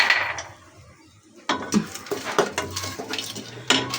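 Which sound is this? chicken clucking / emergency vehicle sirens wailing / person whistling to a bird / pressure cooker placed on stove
pressure cooker placed on stove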